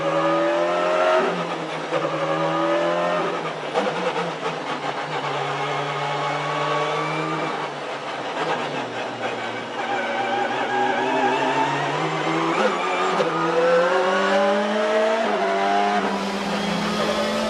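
A WTCC touring race car engine on the final formation lap, with a steady mid-pitched drone and shifting revs that hold loud and close for the full stretch, no voices over it.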